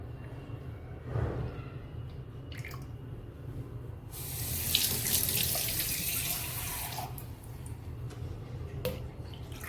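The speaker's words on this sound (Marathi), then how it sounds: "थोडंसं मी यामध्ये पाणी घालून घेणार आहे" Water is poured from a vessel into bhakri flour batter for ghavane, a bright splashing rush swelling in the middle of the clip over a quiet kitchen background.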